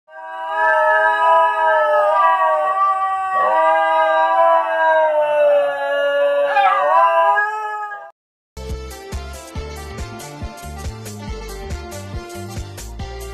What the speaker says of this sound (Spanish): Estos tienen la característica única de no ladrar, y en su lugar emiten un curioso sonido al estilo del canto tirolés.